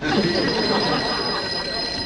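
A telephone bell rings loudly and steadily in a scene from the TV sitcom Mister Ed, a bright continuous trill filling the brief moment.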